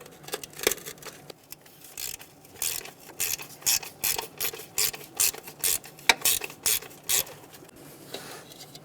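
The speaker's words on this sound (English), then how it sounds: "We're going to remove these 2 bolts." A ratchet loosens two 5.5 mm bolts on the distributor cap of a 1988-1999 GMC K1500 with a 5.7L V8, giving a steady run of close, rapid clicking strokes in short bursts with no talk.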